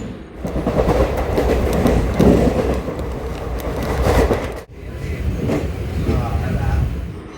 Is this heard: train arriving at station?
yes